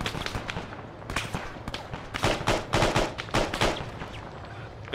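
Dense gunfire in the Arma 3 military shooter, rapid bursts and overlapping shots cracking loudly in clustered volleys with no talk.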